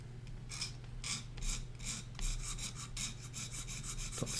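A small file or blade rasps along the edge of a miniature weapon being shaped, in steady, rhythmic strokes that are faint and close, with a low background hum and no voices.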